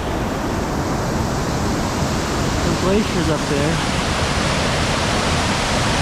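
A glacial snowmelt river rushes loud and steady below glaciers in the North Cascades mountains, its broadband roar constant throughout while someone speaks briefly over it.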